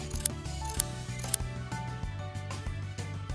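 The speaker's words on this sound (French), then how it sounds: "C'est conseillé de les couper au ciseau aigu, idéalement professionnel" Sharp professional scissors snip split hair ends, three crisp close clicks in a steady rhythm at the start, followed by softer handling noises over quiet background music.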